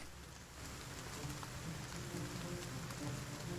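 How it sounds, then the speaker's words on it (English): Steady rain ambience in the video game Battle Brothers, a soft, even patter and hiss of falling rain that continues throughout, faint and alone with no voices. "Some really good quality rain."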